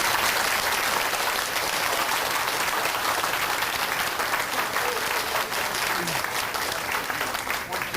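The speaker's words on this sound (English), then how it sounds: "I'd like to give them a round of applause if you guys." Reunion crowd claps in a sustained round of applause, many hands at once, steady and full throughout with faint voices mixed in.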